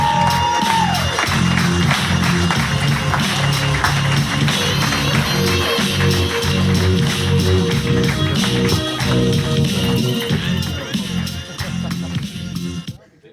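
Studio audience applause for a comedian on a comedy show, a dense loud burst of clapping with some cheering that holds steady and then tapers off near the end.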